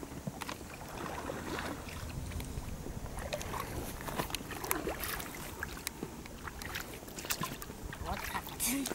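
A small rowing boat moves through water as oars dip and pull in a steady rhythm, with splashes and water noise close by, wind buffeting the microphone, and people talking over it.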